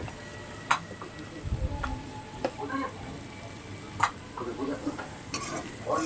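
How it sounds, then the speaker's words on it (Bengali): Turmeric and cumin powder fry in a pan as they are stirred, a soft steady sizzle punctuated by scattered utensil clicks and scrapes, heard close with no talking. "এবার এটাকে ভালো করে নাড়াচাড়া দিতে হবে, পুরোপুরি ভাজা ভাজা হয়ে যাবে"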